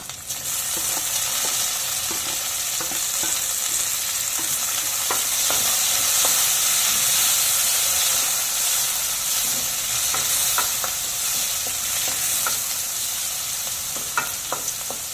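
Tomato, garlic and onion frying in a pan with curry leaves, a constant bright sizzle overlaid by scattered light scrapes and taps of a spoon stirring, steady throughout.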